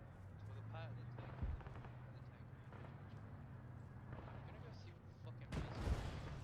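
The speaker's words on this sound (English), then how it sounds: "I'm seeing like rounds coming in, yellow tracer, green tracer rounds coming in further to the" Incoming tracer rounds and gunfire in a tank video game: a few sharp, booming bursts, one early and a louder cluster near the end, over a steady low engine drone.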